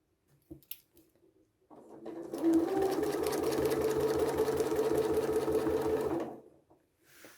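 Free-motion ruler work stitching on a quilted placemat: a sewing machine whirs close and steady for about four seconds with a fast, even needle rhythm, preceded by soft handling bumps and ending in quiet.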